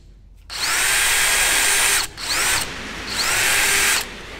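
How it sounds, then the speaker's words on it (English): An electric drill with an 11/64 inch bit whines loudly in three bursts, pausing briefly between them as the bit grinds steadily into a metal transfer case input seal. "So I'm going to go ahead and drill that."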